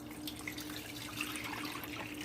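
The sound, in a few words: liquid poured into a pan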